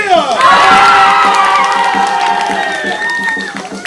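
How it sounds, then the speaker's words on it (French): Young audience at a teen improv match cheering loudly, with shouts and whoops over clapping, a steady crowd roar that stays strong and slowly eases toward the end. "On peut l'applaudir."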